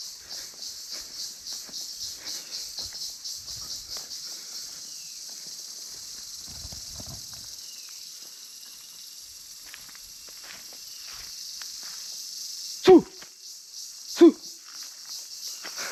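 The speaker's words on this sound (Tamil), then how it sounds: "இந்த பூச்சி சத்தம் வந்து அப்படியே பயங்கரமாக கேட்குது" Insects keep up a dense, high, pulsing buzz in a quiet forest near Mawlynnong village in Meghalaya. The chorus is steady throughout, and two brief sharp knocks sound near the end.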